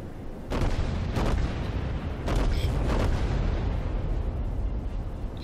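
Heavy naval guns booming from battleships in a warship video game, several deep blasts around half a second, one and a quarter, two and a half and three seconds, over a constant low rumble of the sea.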